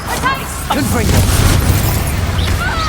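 A Confringo fire spell blasts in Hogwarts Legacy, booming explosions layered with crackling bursts and bright magical whooshes, a voice speaking briefly over the continuous combat din.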